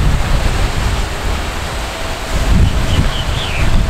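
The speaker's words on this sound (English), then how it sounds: "So right behind me there is where you enter the waterfall" Steady roaring rush of water from a waterfall on Iceland's south coast, close and loud, with wind buffeting the microphone.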